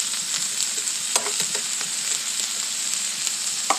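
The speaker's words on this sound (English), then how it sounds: "I got the green onions, the sweet peppers in it right now. Everything cooking good right now." Green onions and sweet peppers sizzle steadily in a hot pan, a constant close frying hiss with faint stirring clicks and no voices.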